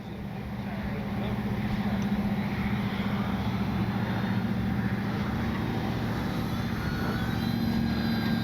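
A small FMS Cessna 182 RC airplane's propeller engine drones steadily during a stall turn, a buzzing whine that holds fairly constant at mid distance, with wind noise and no talking.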